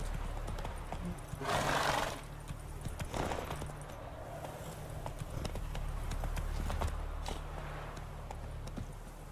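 Roach, the horse in The Witcher 3 video game, clip-clops along with steady hoofbeats and gives a loud whinny early on, with game effects and faint voices in the background.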